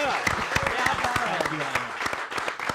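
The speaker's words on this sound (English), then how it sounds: "Big round of applause, everybody" An audience at a songwriters showcase claps, a scattered medium-sized round of applause with distinct individual claps, mixed with talking voices close by.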